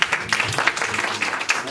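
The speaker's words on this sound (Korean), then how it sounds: "우리 한번 박수 한번 쳐주세요." A church audience at a youth leadership school lecture claps briefly after someone speaks, a short, moderately close patter of hands with a voice faintly mixed in.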